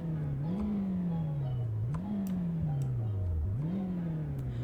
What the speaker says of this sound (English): Sounds like a little 4-cylinder.